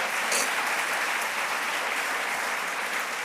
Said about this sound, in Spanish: le damos un aplauso a Dios